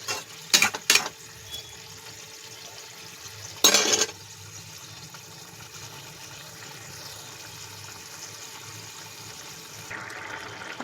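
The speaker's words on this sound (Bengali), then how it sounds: "যে পালংটা বেটেছি তার ধোয়া জলটা এই দিয়ে দিলাম" Water from washing spinach is poured into a pan of palak paneer, giving a few brief splashes and then a quiet, steady simmering hiss.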